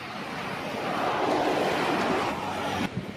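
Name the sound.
Sang river flowing full of water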